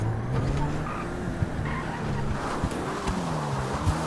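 A fast car skidding with tires squealing in a drawn-out, wavering whine over a steady engine roar, continuous and close, with occasional knocks breaking through.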